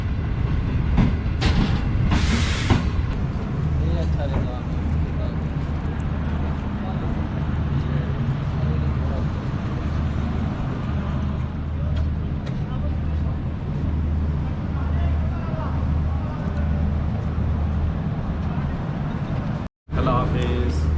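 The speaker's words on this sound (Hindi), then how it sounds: "ट्रेन हमारी अप्रोच बना रही है भावलपुर रेलवे स्टेशन पे" Green Line Express train rolling into Bahawalpur railway station at night, a loud continuous rumble with steady low hum and rattling carriage noise inside a parlour car, with a voice talking over it throughout.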